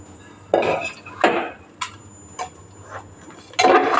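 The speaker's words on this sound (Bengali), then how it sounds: "চালটা দিয়ে দেবো।" Washed, dried rice goes into a cooking pot for pulao, heard as a few close rattling pours and clinks spaced irregularly over a quiet background hum.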